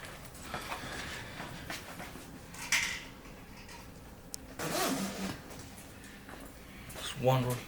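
A fabric pad is zipped onto the back of an X-Chair X77 massage chair during assembly, giving a few short, scratchy zipper runs at moderate volume against a quiet room.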